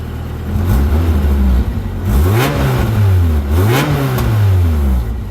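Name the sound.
Toyota AE86 car engine starting and revving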